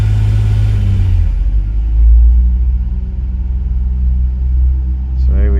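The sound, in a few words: 2000 Ford Windstar 3.8l engine revving under brake torque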